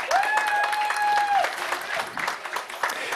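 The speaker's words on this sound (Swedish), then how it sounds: "En applåd, tack." Studio audience claps for a guest, AIK's football sporting director, in a live pre-match broadcast from a bar; a brief burst of steady applause with a voice talking over the start.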